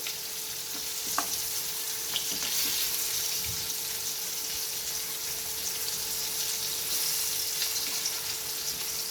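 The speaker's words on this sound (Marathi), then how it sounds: "ही छानशी अशी बघा दोन्ही साईडने छान भाजून घ्यायचे." Prawns fry in a pan for a Malvani kolambi fry, a continuous loud, close sizzle and hiss of hot oil with occasional faint clicks of turning, heard alone without talk.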